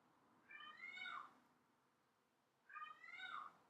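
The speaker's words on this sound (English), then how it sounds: "I hear my cat yelling very loudly in the background" A cat yells in two long drawn-out meows a couple of seconds apart, somewhat distant in a quiet room.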